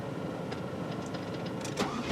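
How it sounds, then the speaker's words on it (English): Inside a 2004 Chevrolet Silverado, the HVAC unit calibrates with a faint, steady mechanical whir and a few soft clicks and small motor-like chirps over a low hum, with no one talking. "There's a calibration there for the HVAC unit, the one is making that noise."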